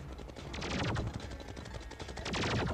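Rapid automatic weapon fire from the video game Terraria, a dense crackling burst of shots running continuously at steady loudness with no talking.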